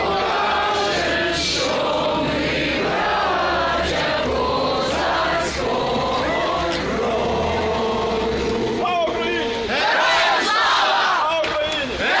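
Crowd of Ukrainians at a Euromaidan march in Kraków chanting slogans in unison, loud rhythmic shouted phrases repeated in waves by many voices outdoors.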